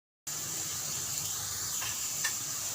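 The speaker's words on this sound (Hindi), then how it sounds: "अब इसमें मैं अपनी प्याज डालूँगी और इसको हम जो है वो ब्राउन करेंगे।" Onions browning in hot oil sizzle with a steady bright hiss after a short silence, with faint stirring scrapes near the end and no talk.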